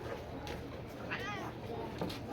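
A cat meows once in a stretched, wavering call, heard over steady background noise and faint voices in a rural cattle-farm setting.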